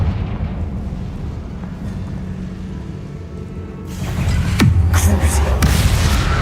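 A Confringo explosion spell goes off in the game Hogwarts Legacy, a sudden loud blast near the end that rises over a steady low rumble and leaves a bright, crackling roar behind it.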